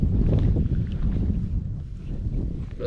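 Steady, loud wind buffets the microphone while kayaking on open water under cloudy skies. The low rumbling gusts run continuously for the whole stretch, with no talking.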